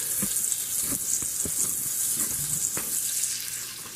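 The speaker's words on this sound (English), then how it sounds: "we got our butter melting" Butter melts and sizzles in a pot for a pot roast, a steady bright frying hiss with occasional soft taps of a utensil, close and continuous.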